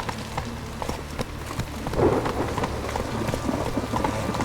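Steady rain falls in The Witcher 3, a dense continuous hiss of drops on surfaces with a low rumble beneath, moderately loud and close, with no one speaking.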